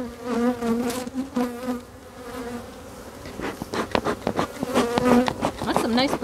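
Honeybees drone steadily around an open hive late in the season, a dense close buzz with individual insects swooping past the ear, while hive tools and frames clatter faintly beneath.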